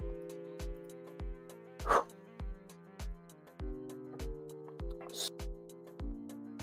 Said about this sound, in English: She was crying up there in her kennel, and she just needed to pee.